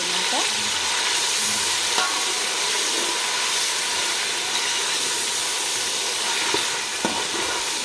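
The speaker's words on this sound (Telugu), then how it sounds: "ఇప్పుడైతే మధ్యలో అంటుకోపోతుంది, సో అందుకని తిప్పుతూ ఒకసారి అయితే కలబెట్టుకుందాం." Ginger garlic paste and onions frying in a pan for chicken biryani, a steady loud sizzle with occasional scrapes of a spoon stirring through it, a brief spoken word at the start.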